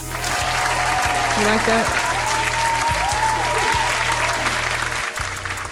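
Applause from a small group in a podcast studio, steady clapping running throughout with people talking over it and some music-like tones in the background.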